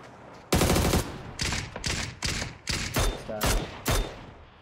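Gunfire in the shooter game PUBG: a series of sharp, loud bursts, a single shot followed by about seven quick volleys spaced roughly half a second apart, close and punchy with a low thump.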